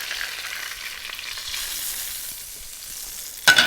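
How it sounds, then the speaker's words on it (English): Dover sole in a pan being basted with aromatic butter: a steady, close sizzle of hot fat that runs throughout, with a sharper burst of spattering right at the end. "Basting that beautiful aromatic butter."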